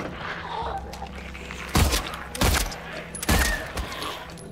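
Three gunshots in the horror video game Silent Hill 2 Remake, dull booming reports spaced under a second apart over a murky, humming ambient background.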